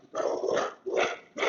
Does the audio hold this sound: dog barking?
yes